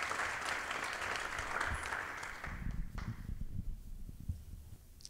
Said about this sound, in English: let's give Barbara a round of applause as she joins us on the stage here today